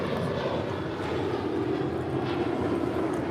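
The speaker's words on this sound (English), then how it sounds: "This is American Airlines 1502 departing to Chicago. It's a 737-800." American Airlines Boeing 737-800 departing LAX for Chicago, its engines giving a dense, unbroken rumble with a low hum underneath, steady and fairly close for the whole stretch.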